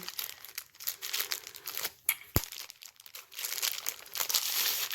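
Plastic wrapping is peeled and pulled off a flexible 24-inch ring light during unboxing, with close, irregular crinkling and crackling bursts and a couple of sharp snaps, no talking.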